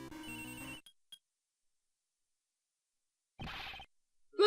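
A cell phone ringtone from the video game Ace Attorney Investigations plays a short bright melodic ring that cuts off, followed by a near-silent pause and then a second brief burst of ringing, with no talking.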